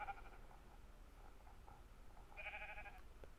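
Faint, distant sheep bleating in the video game Minecraft, one short bleat at the start and another about two seconds later, over quiet background ambience.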